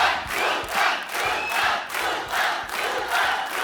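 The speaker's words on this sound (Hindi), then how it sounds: "आप सबकी जोरदार तालियों के बीच में इनवाइट करना चाहूंगा" A studio audience at a comedy talk show cheers and claps loudly in rising and falling surges, a dense crowd roar with shouts, and no one speaking over it.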